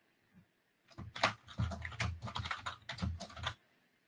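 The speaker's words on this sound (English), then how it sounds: "I'm just typing something" Rapid bursts of typing on a computer keyboard at close range, clattering irregularly for about two and a half seconds before stopping, with no talking.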